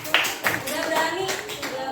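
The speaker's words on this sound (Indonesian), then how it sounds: "kita tepuk tangan dulu dong" Students in a classroom clap for a classmate after a presentation, a short, uneven ripple of hand claps from a small group, with a teacher's voice speaking over it.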